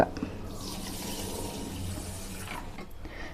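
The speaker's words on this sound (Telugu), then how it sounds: "ఇంట్లో నీళ్ళు పోసి కడుక్కుందాం బియ్యం కూడా" White rice gets washed with water in a kitchen at home, a continuous close splashing and swishing of water that fades out near the end, with no speech.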